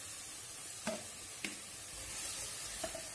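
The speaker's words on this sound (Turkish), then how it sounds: "Şimdi domateslerim kavruluyor" Tomatoes and beans fry quietly in a pan, a soft continuous sizzle broken by three brief clicks of a utensil, faint and close, no voices.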